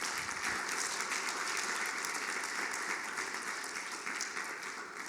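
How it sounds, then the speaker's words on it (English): Conference audience gives a panel a round of applause, dense, steady clapping lasting several seconds at a distance, slightly easing toward the end. "Let's give our panel a giant round of applause."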